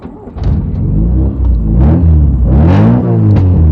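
A used car's engine cranks over on the starter and catches, then settles into a loud, close, low rumbling idle with some uneven revving.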